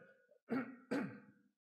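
A person clears phlegm from their throat twice in quick succession during a church service, close and distinct, with a brief quiet murmur just before.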